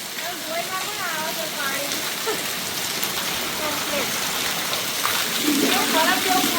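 Steady hiss of heavy rain falling on surfaces, with voices talking over it throughout.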